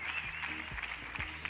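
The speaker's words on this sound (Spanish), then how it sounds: "Un aplauso para Amaya, Iñaki, Carlos, que se retiran." Audience applause for departing guests on a Spanish-language singing show, a steady, fairly faint patter of clapping hands lasting under two seconds with no voices over it.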